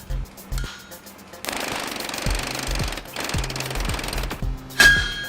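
A mechanical trip hammer pounds an iron sword blade at the forge in rapid, heavy, evenly spaced blows, with brief pauses between bursts and a sharp metallic ring near the end.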